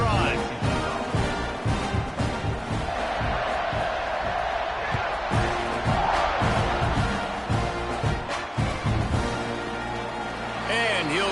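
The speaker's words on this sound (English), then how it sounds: "this crowd is feeling themselves after that last drive" Stadium crowd noise from a college football video game, a steady roar with swells of cheering and whoops that fills the whole stretch, with commentary-like voices running over it.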